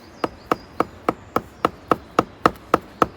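A knife being hammered into a birch trunk to tap sap, heard as twelve sharp, evenly spaced knocks about a quarter second apart, crisp and close with no one talking.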